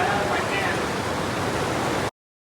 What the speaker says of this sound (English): Got a little waterfall over here.